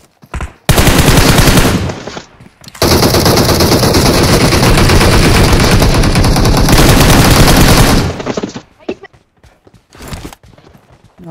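Gunfire in the mobile game PUBG comes as a short burst of loud automatic fire and then a longer, dense volley that cuts off, followed by scattered clicks and softer in-game sounds.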